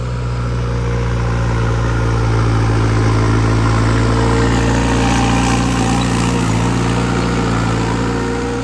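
A 5630 tractor works a field in first high gear while pulling a 17-tine plough. Its engine gives a loud, steady, close-up drone throughout, with no voices.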